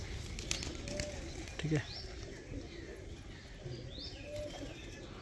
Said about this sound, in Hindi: और ये कबूतर है, देख लो क्वालिटी